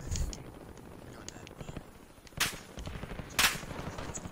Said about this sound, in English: Oh, some assault rifle or some machine gun.